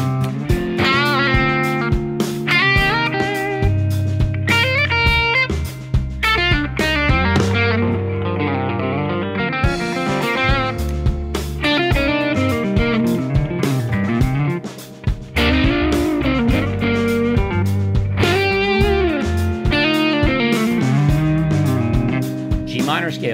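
PRS electric guitar playing a laid back minor groove, sliding into chord tones with clean, sustained melodic lines and rhythmic chords, loud and close throughout.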